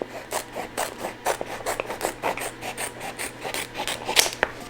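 A blade cuts through a sheet of 3D puff heat transfer vinyl with close, rhythmic rasping strokes in a steady repeating pattern, no voices over it.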